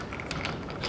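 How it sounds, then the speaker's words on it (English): Ratcheting clicks from a screwdriver or socket tool undoing the top screw of a headlight guard on a 2018 BMW R1200GS Adventure, a close series of short mechanical ticks with no talk. "the last screw that we've got to undo is the one up the top here"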